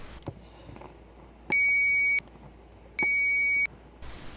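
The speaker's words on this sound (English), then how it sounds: "a low power piezo buzzer still sounds if the ground is very near to an energized contact" Two shrill electronic beeps from a low-power piezo buzzer in a homemade electrical tester, each under a second long and spaced apart, sounding close in an otherwise quiet room.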